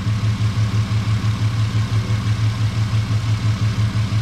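2008 Ford Mustang 4.0 V6 engine idling with a lumpy, choppy idle, a steady low rhythmic pulsing loud and close throughout with no talk.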